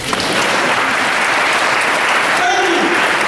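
Students at a middle school Black History Month assembly clap together, a loud, dense, steady burst of applause filling the hall for about three seconds.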